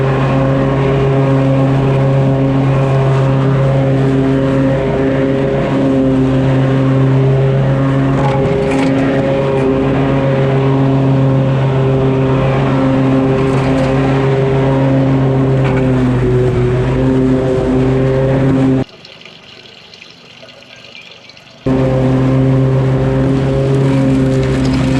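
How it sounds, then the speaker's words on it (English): A Bad Boy ZT Elite zero-turn mower drones steadily while mowing, its engine a loud, close, constant hum with slight wavering, briefly dropping out for a few seconds before resuming; no voices. "Let's see how this thing mows with this fancy new suspension seat."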